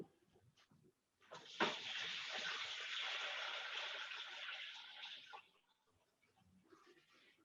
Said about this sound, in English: I'm just going to spill my water on my vegetables.